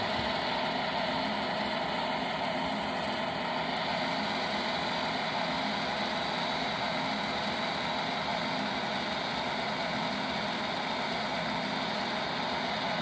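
MTH GTEL turbine locomotive sound unit running in reverse, a deep continuous turbine roar with an even drone at steady level throughout, played alone without talk.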